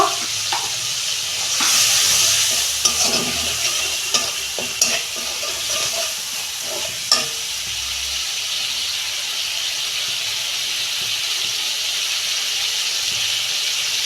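Masala paste of ginger, green chilli and turmeric frying in a pan, a steady sizzle and hiss with scraping stirring strokes through the first half, close and alone.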